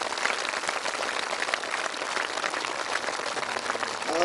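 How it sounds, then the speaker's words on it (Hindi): An audience at a Brahma Kumaris groundbreaking and dedication ceremony applauds, with dense, steady clapping from a crowd that carries on throughout. "अंजलि बहन के लिए जोर से ताली बजाओ"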